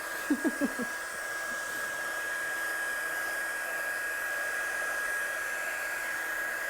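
A hair dryer blows steadily on a craft project, a loud, continuous whooshing drone with a thin whine, preceded by a few brief knocks as it starts.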